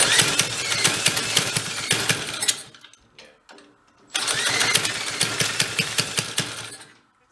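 A Corvair-powered go kart engine, running rich and loaded up, revs loudly with rough, pulsing firing under applied throttle, dips briefly to a quiet sputter, then surges back to full revving.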